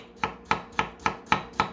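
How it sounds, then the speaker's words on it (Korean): A knife slicing potatoes on a cutting board for doenjang stew, six evenly spaced chops landing in a steady rhythm, close and crisp with nothing else audible. "감자를 얼른 썰어서 넣어보겠습니다"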